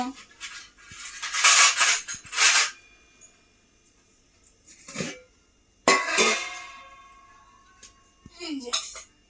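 Steel dishes and cutlery clatter in sharp bursts as rice is served onto plates for a vegetarian lunch, several loud clanks with quiet gaps between, while people, including a child, talk nearby.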